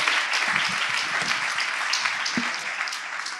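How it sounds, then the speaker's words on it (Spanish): A church congregation applauds to welcome first-time visitors, a steady, dense wash of clapping from a room full of people that holds evenly throughout, with a faint voice or two underneath. "damos un fuerte aplauso a los que han venido hoy por primera vez"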